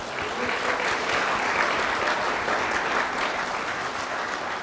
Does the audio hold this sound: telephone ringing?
no